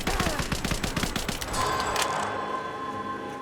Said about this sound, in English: Let's use the SMG, shall we?